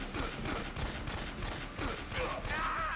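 Rapid repeated gunshots in Metal Gear Solid 3: Snake Eater, an even string of sharp cracks over roughly three seconds, moderately loud against background game sound.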